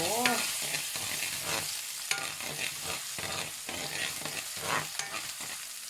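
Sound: stir-frying bean sprouts in a pan

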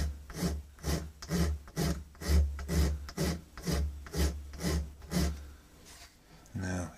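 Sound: coarse warding file filing antique pistol part

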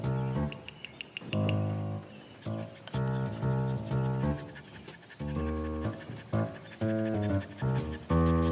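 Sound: dog panting

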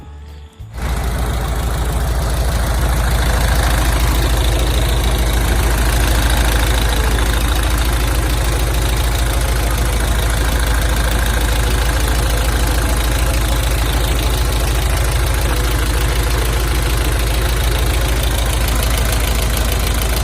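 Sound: Hino truck diesel engine idling

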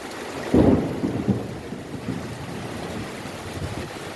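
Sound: heavy rain and thunder

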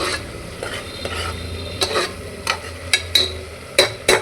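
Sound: masala being sautéed and stirred in a pan

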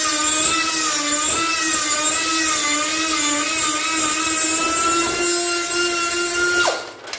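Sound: grinding off a bolt head on a 1976 Bronco

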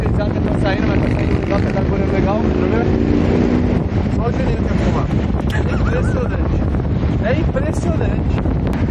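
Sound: strong wind blowing on the microphone

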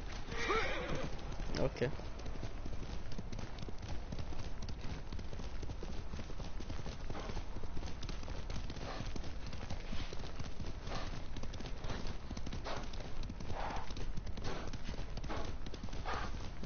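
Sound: horse hooves and neighing in a video game

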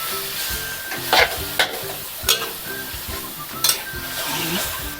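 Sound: simmering seafood gravy in pan

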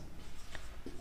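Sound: writing solution on paper

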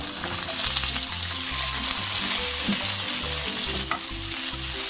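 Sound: octopus stir-frying in oiled preheated pan

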